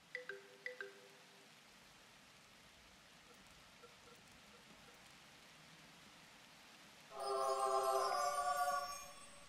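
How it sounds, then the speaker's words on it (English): Rain summoned in The Universim, a god-game, falls as a faint, steady hiss of droplets beneath a couple of soft interface chimes early on, followed by a louder burst of bright, twinkling musical tones near the end. "I might have to just make it rain"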